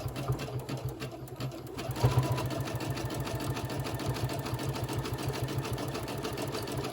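Sewing machine stitching a zigzag stitch on a fabric boxy pouch, a close, fast, steady mechanical whir with rapid regular needle clatter that starts up after a brief pause.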